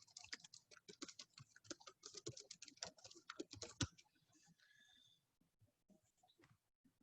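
Rapid, irregular keystrokes on a computer keyboard, close and fairly quiet, clattering for about four seconds before thinning to a few scattered taps.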